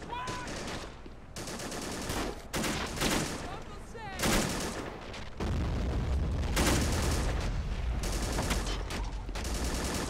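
Battle in the video game Men of War Assault Squad 2, with dense bursts of rifle and machine-gun fire and occasional booms running almost continuously, loud and layered at mixed distances.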